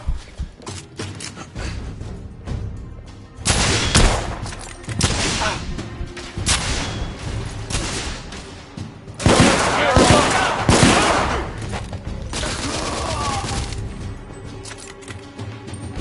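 Video game gunfire crackles in rapid bursts and single shots at close range, with heavier thumps and blasts layered in and shouted voices mixed into the battle.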